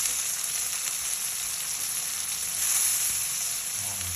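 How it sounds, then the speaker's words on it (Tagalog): Chopped tomatoes sauté in a hot oiled pan for spicy sinampalukang manok, giving a steady, close, hissing sizzle that swells briefly partway through, with a faint clink near the end. "Pag nagigisa kayo, kailangan kayo ng time pagpadurog ng kamatis."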